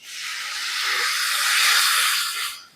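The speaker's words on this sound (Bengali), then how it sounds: "এবার আমি মিক্সি জার ধোয়া জলটা দিয়ে আরো একবার ভালো করে কষিয়ে নেব" A turmeric and chili spice paste sizzles loudly in a pan as water from rinsing the mixer jar is added while it is sautéed, giving a steady, close hiss that swells and then fades.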